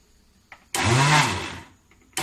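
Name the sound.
mixer grinder running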